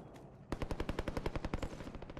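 A rapid burst of automatic gunfire from the Warzone video game, roughly a dozen sharp evenly spaced shots in quick succession, loud and close, following a quieter stretch of game ambience.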